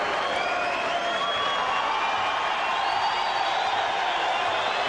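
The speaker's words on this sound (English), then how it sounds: "And he is being saluted by this crowd." A large boxing crowd in Las Vegas cheering and applauding a fighter after the bout, heard as a steady, dense roar of clapping and voices throughout.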